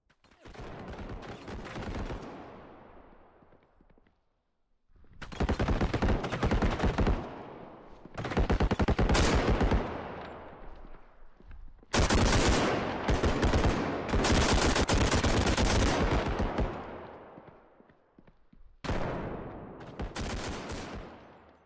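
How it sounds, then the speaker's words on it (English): Realistic gunfire from the shooter game Bodycam crashes out in loud, dense bursts of rapid automatic shots, broken by short pauses and trailing echoes. "Bodycam has really leveraged this special visual style to deliver a super realistic and incredibly impressive shooting experience."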